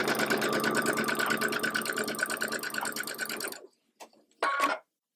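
Sewing machine running steadily as it stitches quilting fabric for a constellation sampler block, a fast rhythmic chatter for several seconds that stops abruptly, followed by brief clicks and a short final burst.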